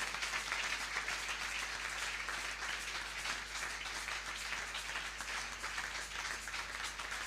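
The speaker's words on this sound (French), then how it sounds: "On acclame très fort le roi des rois" Church congregation applauding loudly during a Sunday worship service, a steady dense wash of many hands clapping throughout with no pauses.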